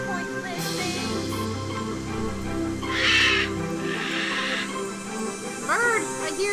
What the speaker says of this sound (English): Bird! I hear you, bird!